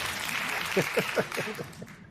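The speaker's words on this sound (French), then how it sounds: "Écoutez, la foule est en délire." Studio audience at a French-language talk show breaking into applause, a modest burst of clapping with a few sharper claps standing out, under a loud voice that briefly carries over it.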